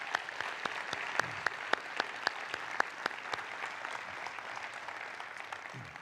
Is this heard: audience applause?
yes